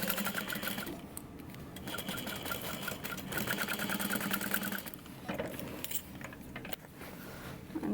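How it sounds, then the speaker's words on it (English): A sewing machine stitches a tote bag seam at 5/8 inch, running in a steady close mechanical whir with brief pauses and restarts, and no voices. "And sew that together at 5/8, which is insane."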